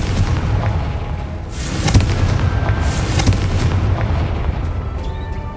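Fiery Confringo explosion spells in the game Hogwarts Legacy go off as a dense run of booming blasts and crackles, loud and continuous throughout.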